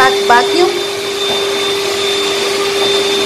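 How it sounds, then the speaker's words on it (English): Steady loud whine of a backpack vacuum cleaner running over a hard floor, a constant motor drone with a sharp tonal hum throughout, with a few brief spoken words at the start. "We are using our backpack vacuum"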